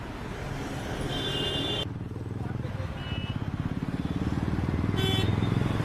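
A motorbike engine idles and revs nearby while traffic police at a roadside check move it aside, a steady putter rising toward the end, with someone talking over it.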